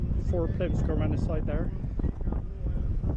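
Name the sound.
strong wind outdoors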